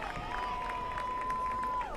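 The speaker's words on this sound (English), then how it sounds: "round of applause" A crowd at a women's college soccer match, Radford against Duke in a first-round game, gives a steady round of applause and cheering for two seconds, with a faint sustained tone running through it.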